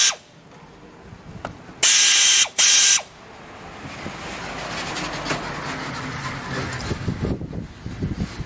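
A ratchet wrench works a 12 millimeter engine bolt on a 1997 Honda Civic during a partial engine rebuild, close metallic ratcheting with a couple of loud bursts early, then steady mechanical clicking and rattle.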